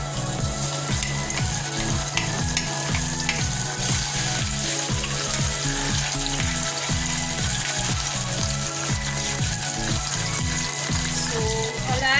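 Garlic sizzles and fries in a pot for a one-pot soupy noodle dish with a steady, close crackle. Regular stirring or scraping knocks sound through it, with no voice over the cooking.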